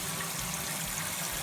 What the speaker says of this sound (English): this is the faucet, and this is the spray